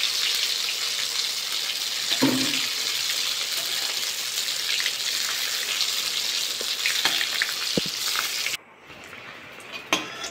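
Eggplant slices frying in oil in a pan, a dense, steady sizzle held at close range, with a brief clatter partway through and a sudden drop to quieter sizzling near the end.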